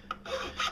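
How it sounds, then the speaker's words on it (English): A metal file rasps over the edge of a freshly drilled metal hole to take off burrs. Two or three short scraping strokes sound close and alone. "carefully with a file, remove the burrs"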